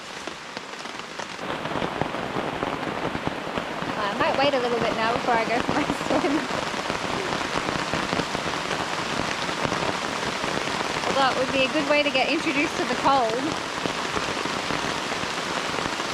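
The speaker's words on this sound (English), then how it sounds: "got the tent done just before it started to rain." Heavy rain pours steadily onto a jungle campsite, a dense continuous hiss and patter close by, while someone talks quietly over it.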